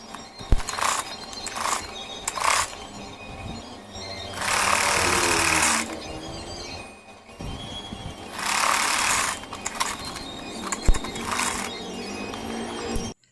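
Sewing machine stitching the seams of a plain blouse, running in several loud, steady bursts of rapid needle chatter separated by short pauses and handling noises.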